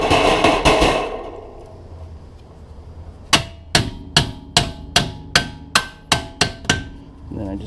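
A hammer taps a suspension bolt through on a Volkswagen MK5, MK6 or MK7 GTI or Golf R. It starts with a few muffled knocks, then ten sharp metallic strikes land in a steady, evenly spaced rhythm, loud and close.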